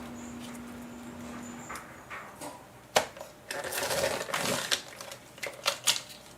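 A paper trimmer slices a transparency sheet at a craft desk, giving a series of close, sharp cutting clicks and scraping strokes, with a faint hum early on.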